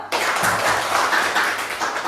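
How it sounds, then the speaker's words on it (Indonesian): A classroom full of students applauds together, a dense, steady burst of clapping that starts abruptly and carries on evenly for a couple of seconds without talk over it. "Bagus, tepuk tangan yuk."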